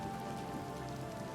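Steady rain falling in the video game Oblivion Remastered, a continuous dense hiss of drops pattering on surfaces with no other sounds or voices.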